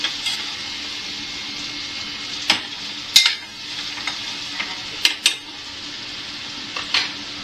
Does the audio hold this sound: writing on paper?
no